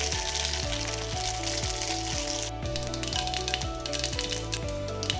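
Mustard seeds sizzle and crackle in hot oil for a tomato-chilli sambharo, a steady close frying hiss with a rapid, regular popping pattern throughout.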